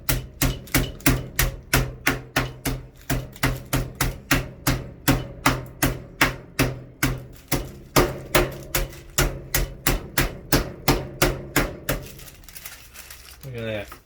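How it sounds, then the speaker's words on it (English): Chicken being pounded flat for a grilled cheese sandwich: a rapid, regular series of sharp thuds, near and loud, about two per second for twelve seconds, then a brief softer rustle at the end. "Just going to flatten it a little bit more so it's more consistent with the cooking."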